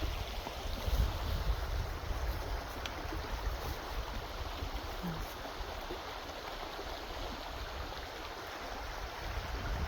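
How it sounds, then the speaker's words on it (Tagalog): A stream flows steadily on a rural property, a soft broadband rush of water that stays constant and fairly faint with no talk over it. "It's so peaceful lang makinig sa tubig,"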